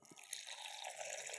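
Water pours into a mix of turmeric powder, green chilli and cumin for a curry paste, a steady bright splashing stream running close and alone for about a second and a half.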